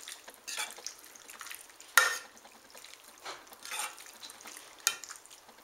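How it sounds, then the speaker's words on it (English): Thick cheese sauce being stirred into gluten-free macaroni in pots, a series of soft wet squelches and scrapes with one sharp utensil knock against the pot, close and moderately quiet, no talking. "I'm going to start to mix it around so that it coats the noodles"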